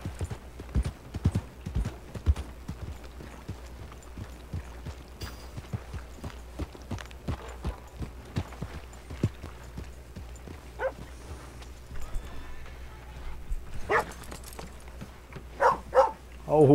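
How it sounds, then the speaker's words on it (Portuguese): Hooves of a Hungarian Half-bred horse in Red Dead Redemption clip-clop in a steady rhythm, loud and close, with a brief whinny and dog barks mixed in, under ongoing talk. "Eu gosto demais desse cavalo, galera."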